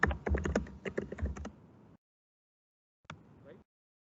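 Rapid keystrokes on a computer keyboard while entering a long-term loan figure in an accounting sheet, a close burst of clicks for about two seconds, then silence and a short final flurry of taps.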